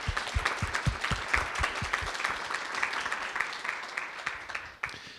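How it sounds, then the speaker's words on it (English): An audience applauds a guest speaker at an evening talk event, nearby individual claps standing out as distinct thumps within broader room clapping that tapers off near the end. "I think you all deserve an applause."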